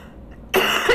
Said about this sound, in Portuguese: tô tossindo muito.